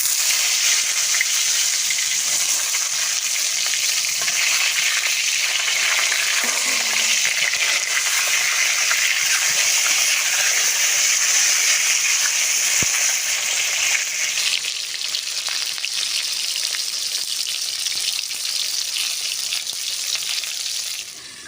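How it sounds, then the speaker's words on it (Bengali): Sliced pointed gourd frying in hot mustard oil in a pan, a loud, steady broadband sizzle that holds for the whole stretch and eases slightly toward the end, with no voices. "তেলটা সুন্দরভাবে গরম হয়ে গেছে, কেটে রাখা পটলগুলো দিয়ে দেব।"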